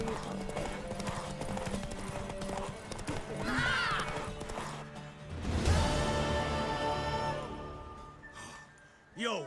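Horse hooves clip-clopping during a race in The Witcher 3, a steady galloping beat mixed with game music and a brief whinny, with voices talking over part of it.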